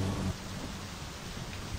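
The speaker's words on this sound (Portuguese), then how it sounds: "Porque tá chovendo." Rain and thunder in the video game My Summer Car: a dense, steady downpour with a low rumble of thunder underneath, brief and continuous.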